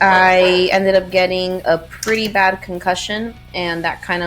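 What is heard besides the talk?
No distinct noise like a dog, phone or traffic.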